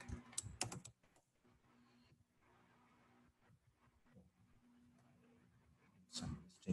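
Typing a password on a computer keyboard: a quick burst of key clicks at the start, a quiet stretch of faint tapping, then another short flurry of keystrokes at the end.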